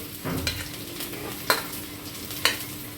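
Chopped garlic and ginger are stirred in a frying pan for dhaba-style chicken kosha: a low steady sizzle, close by, with three sharp spatula knocks against the pan spaced about a second apart.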